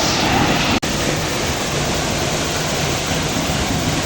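A waterfall pours over a river at the Gupt Bhimashankar temple, where a Shiva lingam sits beneath the falls, giving a steady, loud, close roar of rushing water with one brief dropout.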